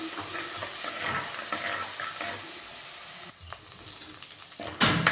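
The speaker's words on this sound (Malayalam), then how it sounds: "ചതച്ച് വെച്ചിരിക്കുന്ന ഇഞ്ചിയും വെളുത്തുള്ളിയും കൂടെ ചേർത്ത് ഒന്ന് മൂപ്പിച്ചെടുക്കണം" Crushed ginger and garlic frying over a medium flame in a pan while a fish curry is made, giving a steady close sizzle and crackle with stirring scrapes, briefly quieter before a sharp burst of sizzling near the end.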